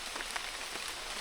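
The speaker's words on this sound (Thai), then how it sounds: "เป็นแล้วฝนตก" Rain falls steadily in a rainforest, a dense hiss of drops close by with faint individual patters, heard alone without voices.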